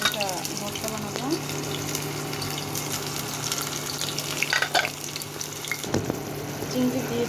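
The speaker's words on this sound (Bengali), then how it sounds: "এখানে আমি তেলে পেঁয়াজ দিলাম, একটু সবজি, চিংড়ি দিয়ে সবজি করব" Onion, vegetables and shrimp fry in oil with a steady background sizzle, mixed with occasional stirring clinks and scrapes close by. A brief water-like splash breaks in near the middle.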